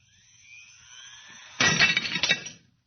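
A radio-drama effect of a glass being shattered: a rising whine builds, then a sudden loud crash of breaking glass with tinkling shards that quickly dies away.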